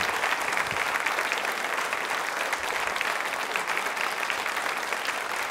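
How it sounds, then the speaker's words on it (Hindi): Audience applause at a women's group quiz show event, a dense steady clapping from a crowd, continuous and even for several seconds, with faint voices underneath. "तालियां जोरों से बजाइए अपने लिए एक बार।"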